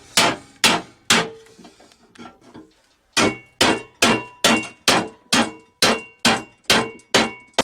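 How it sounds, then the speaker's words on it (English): Metal being bent for a custom bumper rings under a hammer: a few heavy blows and lighter taps, a brief pause, then a steady series of about ten loud, evenly spaced clanging strikes. "We're going to have to use a regular hammer on this."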